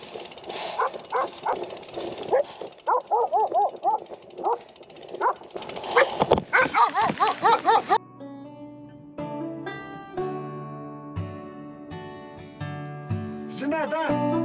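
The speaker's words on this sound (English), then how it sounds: "now we've got dogs coming this way. Little German shepherds." Little German shepherds approach, giving short yips and whimpering barks close by, with a rapid burst of barking midway, then a quieter stretch with ringing tonal sounds.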